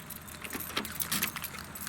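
Metal keys jangle and scrape as a physical key turns in the door lock of a 2015 or later Nissan Murano, a few short clicks and rattles close by with no talk.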